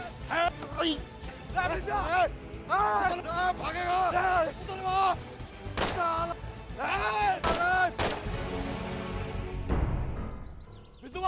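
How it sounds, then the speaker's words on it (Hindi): A few sharp gunshots crack out amid agitated shouting voices, loud and close, with a noisy rumble near the end. "लागत है कि गोली चला देलस"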